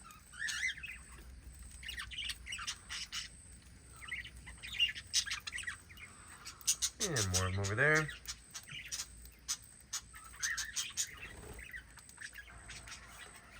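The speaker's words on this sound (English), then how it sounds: "So we have all these small birds in here. This is the small parrot aviary." Many small parrots and budgies chirp and squawk in busy, overlapping bursts throughout an aviary, with a person talking quietly among them.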